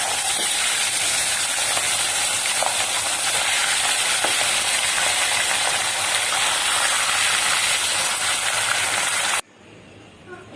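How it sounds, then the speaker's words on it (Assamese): Fish pieces fry in hot oil with a loud, continuous close sizzle and crackle for about nine seconds before the sound cuts out abruptly, leaving quiet background, with no voices. "এতিয়া মই মাছখিনি ফ্ৰাই কৰি লম।"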